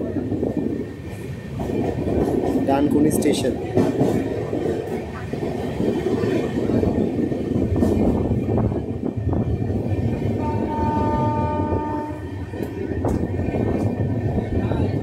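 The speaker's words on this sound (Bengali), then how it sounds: "ট্রেন এখন ক্রস করছে" The Sealdah–NJP Darjeeling Mail runs fast on rails near Dankuni station, a loud continuous rumble and rattle with rhythmic clatter of wheels over joints, and a brief voice announcing the station partway through.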